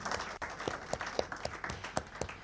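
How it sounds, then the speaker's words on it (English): Audience applause for conference panelists at a closing session, a steady patter of clapping with a few sharper individual claps, moderately faint and heard alone without talk. "Please give the panelists another round of applause."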